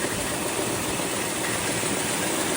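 A 1971 Dodge Super Bee V8 idling with a faulty fuel pump, giving a steady, dense mechanical drone with no breaks, heard close up.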